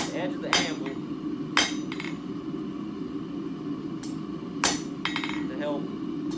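A hammer forges round stock bar on the edge of an anvil damped with a piece of chain, giving sharp metallic strikes spaced a second or more apart, some with quick follow-up taps, while someone talks between blows.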